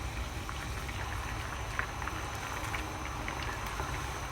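Kerala coconut fish curry bubbling steadily in a pan, a continuous close hiss and low simmering rumble with faint scattered pops, no voices.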